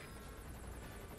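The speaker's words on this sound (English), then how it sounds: "Looks like the arms dealer's chopper has got a patrol for the security forces" Arms dealer's helicopter in Metal Gear Solid 5: The Phantom Pain gives off a steady, moderately loud rotor drone with a rushing broadband hum throughout and no voices.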